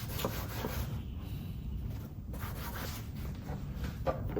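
A cloth rubs hard over the lower fender area of a motorcycle during cleaning, giving a continuous scrubbing swish with quick back-and-forth strokes, close and fairly loud, with no talking.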